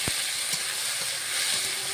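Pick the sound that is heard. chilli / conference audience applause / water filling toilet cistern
chilli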